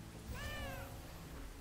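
A cat meows once in the Dungeon Defenders video game, a single drawn-out, wavering meow that sits over steady game background sound.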